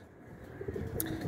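Kalay Zeeray highflyer pigeons coo softly and steadily, a low rolling murmur that swells slightly partway through, close by with no talking.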